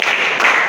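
Students in a class clap together on command, a brief, busy wash of many hands striking at once, loud and close with no pause.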